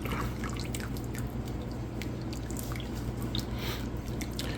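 Homemade chicken stock drains from chicken carcasses through a strainer, with scattered drips and a light trickle over a steady, constant low hum.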